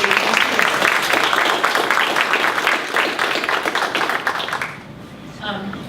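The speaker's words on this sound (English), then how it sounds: "round of applause for our speakers" An audience at a women's mental health panel applauds its speakers, a dense, sustained wash of many hands clapping that holds steady for about five seconds, then fades out as a voice begins.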